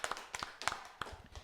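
A church congregation claps together for a short burst at a Sunday worship service, with sharp, scattered hand claps that thin out and fade over a second and a half, fairly faint.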